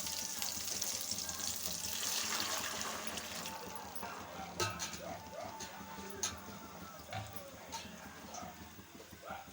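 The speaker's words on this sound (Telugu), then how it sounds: "1 కప్పుకు 3 కప్పులే వాటర్ యాడ్ చేసుకుందాం" Water is poured into a hot pan of cooked vegetables for tomato bath: a hissing, sizzling rush is loudest during the first few seconds and then settles into softer bubbling and scattered clinks, faint overall, with some voice in the background.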